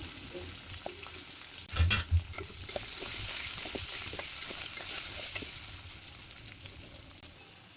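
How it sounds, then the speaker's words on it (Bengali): Potatoes frying in a pan for a home lunch give a steady close sizzle, with a couple of louder thumps and stirring clatters early on, and no voices. "আমি প্রথমে আমি আলুগুলোকে ভেজে নেব"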